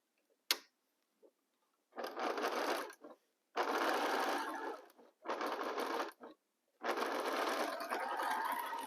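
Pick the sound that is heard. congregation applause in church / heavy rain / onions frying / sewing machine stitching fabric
sewing machine stitching fabric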